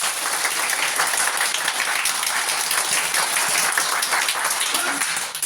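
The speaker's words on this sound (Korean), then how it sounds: "자, 박수 준비. 야! 시작." A seminar audience claps hard and fast together in one steady burst of dense applause that lasts several seconds, with scattered voices mixed in.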